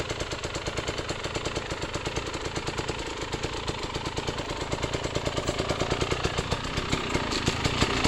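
Enduro motorcycle engine running at low speed, a steady rapid throbbing putter that holds continuously and grows slightly louder and more pronounced toward the end, close by with no talk.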